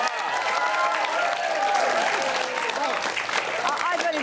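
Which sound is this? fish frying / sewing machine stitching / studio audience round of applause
studio audience round of applause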